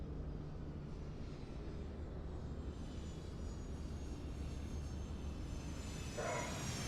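Regional jet engines drone steadily in a flight simulator replay, a broad continuous roar with a faint high whine that holds at a moderate level throughout, with no talking.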